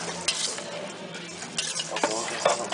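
Mutton biryani rice being stirred in a large pot, with a ladle scraping and clinking against the metal in a steady rhythm over a soft sizzle and patter.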